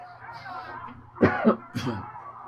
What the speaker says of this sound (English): Man, can't stop coughing